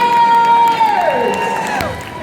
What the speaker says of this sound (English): keep that round of applause going for all of my volunteers!